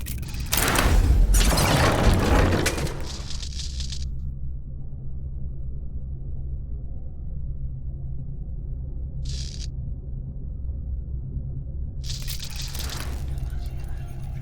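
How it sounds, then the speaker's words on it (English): Deep booming video game explosions and rumble at the start, then a low steady hum with brief bright bursts later; no talking. "The explosions didn't affect the room."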